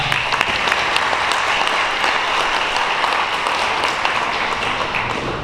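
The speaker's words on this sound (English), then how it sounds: "Let's give him a round of applause." A room of listeners at a round-table talk gives a steady round of applause, dense and fairly loud, with many overlapping claps running continuously and no speech over it.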